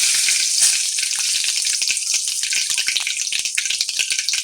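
Mustard seeds, cumin, whole spices and two or three Byadgi chillies crackle and sizzle in hot oil for a matar paneer base, a loud, steady, dense frying hiss with quick spits and pops and no talking.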